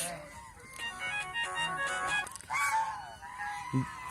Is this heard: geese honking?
yes